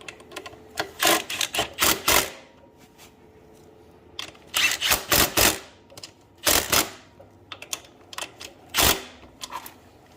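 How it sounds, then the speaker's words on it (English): Impact wrench driving a 14mm socket to tighten a bolt on a 1997-2012 Honda Accord/Prelude axle and intermediate shaft install, heard as several short loud bursts of rattling hammering in separate groups, close up, with no talking. "we're gonna finish it off with the impact"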